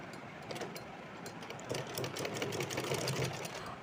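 A sewing machine stitches up the kali panels of a small Kanha ji deity outfit, running steadily with a soft continuous whirr and rapid needle ticking throughout, fairly quiet and with no talk.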